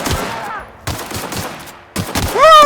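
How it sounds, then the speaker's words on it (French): Pistol fire in the video game The Outer Worlds, a few loud, sharp bursts of shots spaced through a brief stretch, close and punchy, with a rising electronic tone near the end. "Regarde, j'ai le pistolet."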